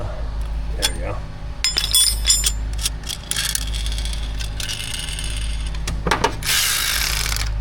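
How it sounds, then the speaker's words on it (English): A brushless power tool loosens bolts on a GM 5.3 engine, giving short whirring bursts mixed with metallic clinks and ratcheting, close up, with a voice talking over the work. "Brushless tools, so they don't throw sparks, so you don't blow yourself up."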